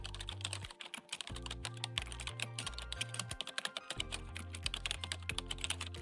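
Keys clatter steadily on a computer keyboard as a trading indicator name is typed into a search bar, a quick, close run of clicks over a soft background music bed with a repeating low pattern.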